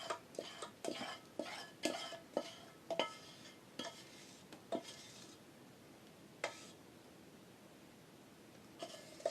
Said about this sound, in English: So just stir the two together.